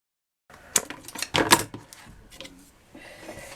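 Scissors or a blade cutting out a traced shape for a shabby chic flower plaque, a short cluster of close snips and crisp clicks followed by softer handling noise.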